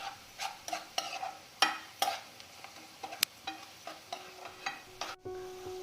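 A spoon stirs chilli, turmeric and coriander powders through oil in a pan, making a series of sharp scrapes and taps over a faint sizzle, close and without speech.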